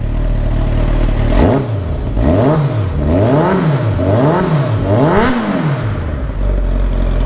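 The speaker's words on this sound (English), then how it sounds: "Let's hear some exhaust." A Kawasaki ZZR1400 (ZX14R) hyper sportbike with a non-original setup, its exhaust close by, idling and then blipped through four or five rhythmic revs that rise and fall before settling back to idle.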